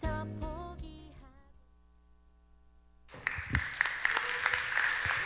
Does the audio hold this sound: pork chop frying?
no